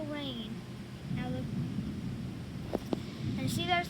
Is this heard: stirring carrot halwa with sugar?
no